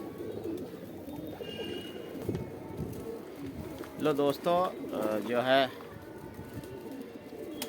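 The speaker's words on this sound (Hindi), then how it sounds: "कबूतर मैंने जो पहले दिखाया उसी जोड़ के 2 बच्चे दिखा रहा हूँ मैं।" Young pigeons of a high-flying breed coo in short rippling bursts close by, near the middle of the stretch, over background noise with someone talking before and after.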